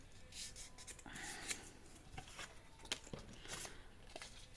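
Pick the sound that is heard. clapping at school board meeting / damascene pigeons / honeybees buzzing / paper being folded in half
paper being folded in half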